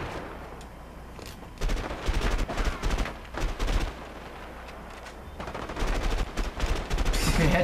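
Gunfire in the video game A Way Out, with repeated sharp shots in clustered bursts at a moderate level over a low game background.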